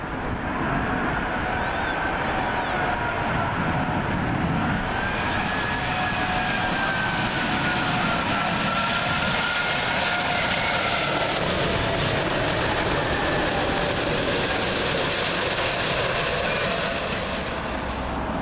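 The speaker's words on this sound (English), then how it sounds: "It's this British Airways A380, and it's coming from Miami." A British Airways Airbus A380 arriving at Heathrow from Miami on runway 27L, heard as a loud, sustained jet engine roar with a sweeping whine that dominates throughout and fades slightly at the close.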